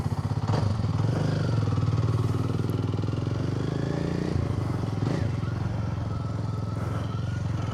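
A 2025 Kawasaki W230 retro motorcycle pulls away, its steady mid-pitched single-cylinder engine loud and close throughout with a constant throbbing drone.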